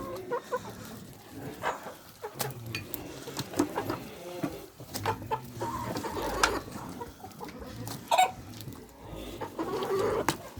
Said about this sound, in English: These are my meat hens that we're hoping to reproduce into more meat hens.